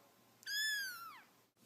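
A single cat meow, clear and close, rising then sliding down in pitch over about a second, with quiet background and no talking.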